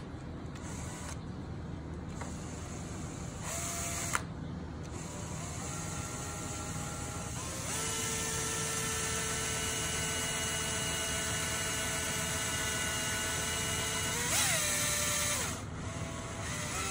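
A cordless drill drives 25mm self-tapping screws, whirring up in steady tones that rise and hold for several seconds at a time, with short pauses between runs and a final brief burst near the end, close and clear with no talk.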